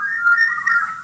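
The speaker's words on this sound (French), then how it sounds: "Ils ont sifflé." Steady whistled tone, sustained and fairly loud through the whole moment, with slight pitch wavering and no talking.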